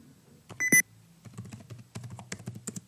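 Quick keyboard typing on a computer, a run of light close clicks broken by a short pause, with a brief beep-like tone early on and no voices.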